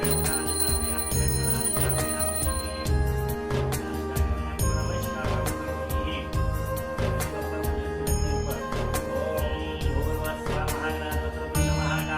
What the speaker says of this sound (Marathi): घंटी वाजवायची कानाची वाजवायची.